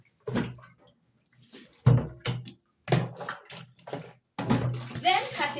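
Tap water runs in short bursts as cabbage is rinsed in a kitchen, splashing and trickling close by between pauses, with someone talking over parts of it.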